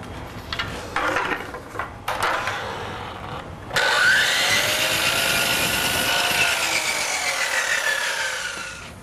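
Power saw cutting wooden header stock for a custom window: a few short scraping knocks, then the blade spins up into a loud, sustained whining cut that holds steady and tapers slightly near the end.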